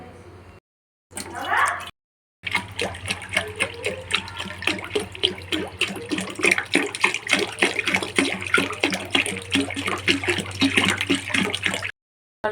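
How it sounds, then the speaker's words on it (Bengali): Water splashes and pours steadily into a wok set on a lit gas stove for cooking rice, after a couple of short bursts and pauses, with a low burner hum underneath. "এবার কড়ার মধ্যে জল দিয়ে দেবো"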